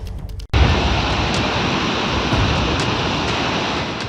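Torrent of floodwater pouring down from the mountains during landslides and swollen rivers: a loud, continuous roaring rush of water that sets in abruptly after a brief quiet moment and keeps up without pause.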